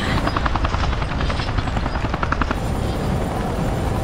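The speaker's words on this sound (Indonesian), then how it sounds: "Seperti biasa, helikopter penyelamat" Rescue helicopter in the video game Resident Evil 5, a steady loud rotor thudding with rhythmic chopping pulses that fill the whole stretch without a break.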